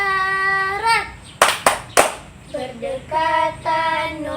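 Children clap hands in rhythm with a group hand-clapping song about keeping distance, with sung lines before and after a burst of loud, sharp claps near the middle.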